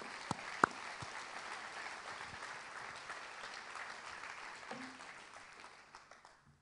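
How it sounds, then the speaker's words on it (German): Applause from guests at the opening of the Dornbirn spring trade fair, a modest, fairly distant patter of many hands held steady at low level, with a couple of sharper nearby claps early on before fading out at the end. "Ich denke, das hat einen kleinen Applaus verdient."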